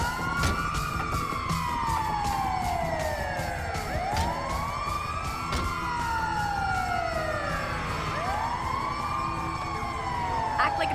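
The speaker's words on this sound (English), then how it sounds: "it's the ambulance! Get in!" Wailing ambulance siren sweeps up and down repeatedly in GTA 5 during a raid getaway, loud and steady over engine noise with occasional voices.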